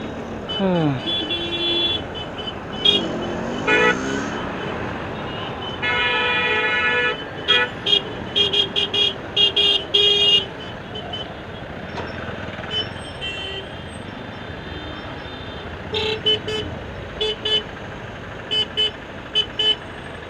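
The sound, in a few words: road traffic with car horns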